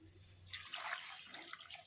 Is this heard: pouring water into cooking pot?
yes